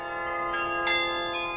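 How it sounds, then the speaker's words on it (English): Carillon bells of a 56-bell concert instrument at Mayo ring in sustained, overlapping tones, with fresh strikes joining the lingering resonance, loud and alone with no talking. "Our instrument at Mayo is 56 bells, very nice size, considered a concert instrument"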